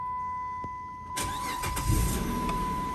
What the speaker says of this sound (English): let's turn on the car and see if it starts right away